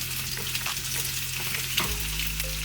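Thinly sliced onions crackle in hot oil while a utensil stirs them through the pan, a close steady sizzle punctuated by scraping strokes and a brief clunk near the end.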